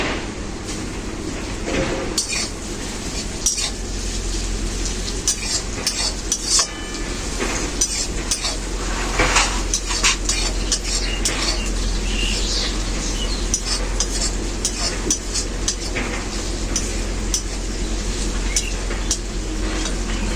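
Crushed ginger fries with onion and jackfruit seeds in a pan, a steady close sizzle broken by repeated metallic clinks and scrapes of a spatula against the cookware.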